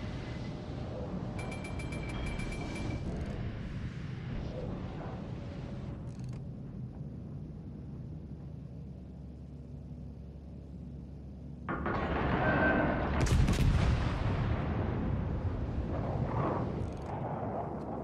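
Heavy battleship main-gun salvos in World of Warships, a dense low rumbling roar throughout, with a louder booming blast and crackling surge partway through that stays loud to the end.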